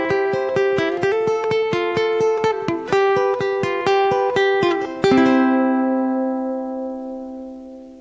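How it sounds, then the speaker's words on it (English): A music track processed with EQ, compression, stereo enhancement and reverb plays a rhythmic pattern of bright, punchy notes, then stops on a final chord whose reverb tail rings out and fades over several seconds. "Here we've got some compression,"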